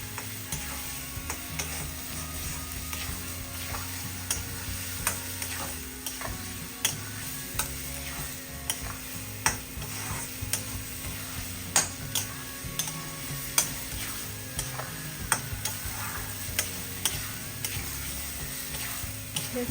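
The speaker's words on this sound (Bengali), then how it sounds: "আর এখন সেই জন্য কন্টিনিউয়াস নাড়তে হবে" Coriander leaf paste being stirred continuously in a pan, a soft steady sizzle with frequent small scraping clicks of the utensil throughout, close and fairly quiet, no voices.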